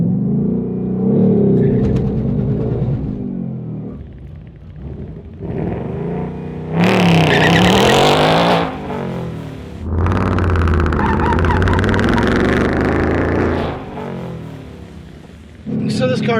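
Bone-stock 2024 Mustang Dark Horse launching at a dragstrip with violent wheel hop, engine roaring in loud surges that drop and rise again, heard close with a voice talking over parts of it.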